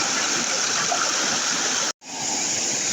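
Ritsons Force, a waterfall and stream on an easy countryside walk, gives a steady, loud rushing roar of falling water that cuts out for a moment and then returns.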